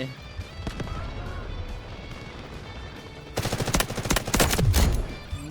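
An M4A1 rifle firing in the video game Delta Force, first scattered distant shots, then a sustained rapid automatic burst of close, loud gunfire in the second half, with a voice talking over it.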